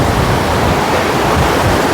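A rushing mountain river beside a rocky glacier trail roars in a dense, steady, loud wash of water close by, with no voices over it.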